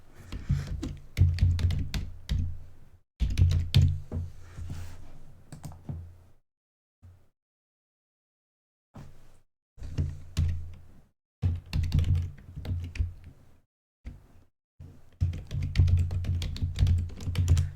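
Clattering keystrokes on a wireless computer keyboard, fast bursts of typing separated by short pauses, close and fairly loud with no voices.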